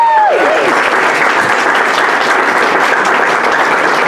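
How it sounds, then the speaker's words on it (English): An audience at a Pride event at Macy's Herald Square claps steadily and loudly, with dense, continuous applause and no talk over it. "Let's give a big round of applause."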